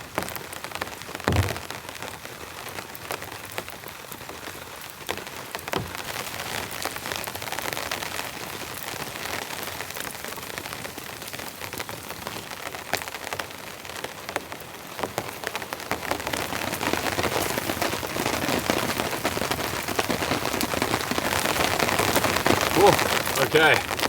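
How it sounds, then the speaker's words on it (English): Rain patters on a tarp stretched over a tent at a campsite, with close, irregular drops that thicken into a louder, denser drumming during the second half. "This rain is lovely."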